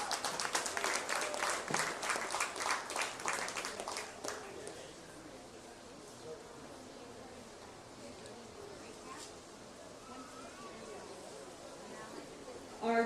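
Brief burst of clapping from the crowd at a county fair livestock show ring, lasting about four seconds before fading into quiet ambient murmur and background noise.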